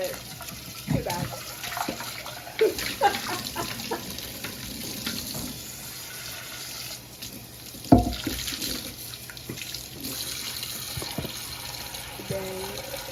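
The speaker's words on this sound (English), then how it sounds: "I'm gonna just wash this pot." Running water from a kitchen tap splashes into a sink while a pot is washed, with irregular clanks and scrapes of metal, one sharp knock standing out, and a voice speaking at times over the water.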